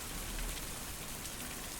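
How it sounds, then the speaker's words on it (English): Steady rain falls in a video game, a dense, even hiss of drops on surfaces that continues without pause and without any voices. "I've always hated the rain."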